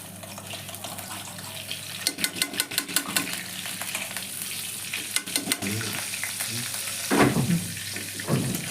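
Butter hits hot white oil in a wok while cooking dal makhani, setting off a crackling sizzle with bursts of spattering and stirring, loud and close with a steady background hiss.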